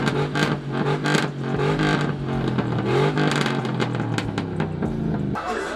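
Car engine revving hard, the tone climbing and dropping in repeated loud, close pulls over several seconds, with some background chatter.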